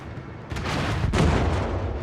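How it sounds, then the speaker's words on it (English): Naval gunfire in World of Warships, with heavy broadband booms and rumbling shell fire swelling midway and holding loud and continuous to the end as a ship comes under attack. "they are shooting at me actually"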